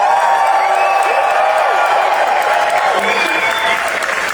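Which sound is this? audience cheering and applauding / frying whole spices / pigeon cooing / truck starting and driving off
audience cheering and applauding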